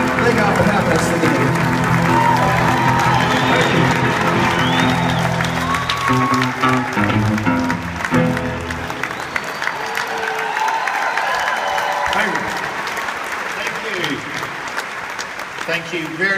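An audience at a Walmart AMP Saturday morning meeting applauds and cheers after a live song, loud dense clapping with a music tail fading beneath it, tapering off slightly toward the end.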